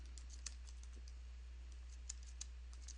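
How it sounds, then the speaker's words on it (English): Light typing on a computer keyboard, quiet and close, with scattered irregular key clicks and occasional sharper taps over a steady low hum, no talking. "Well, then I would type a reminder."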